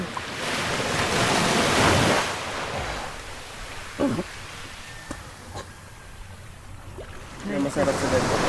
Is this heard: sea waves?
yes